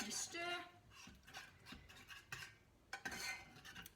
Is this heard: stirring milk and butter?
yes